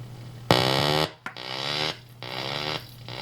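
Harsh electronic squealing tones from a Synthrotek delay pedal circuit as its delay length is changed, in loud bursts, cutting in and out abruptly with glitchy gaps, like an oscillating effects circuit.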